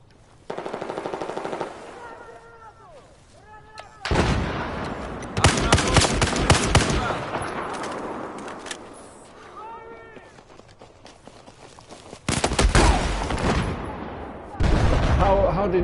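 Battlefield 4 gunfire, with sustained rapid bursts of automatic fire and single shots, near and loud, running through most of the clip under game effects and a voice.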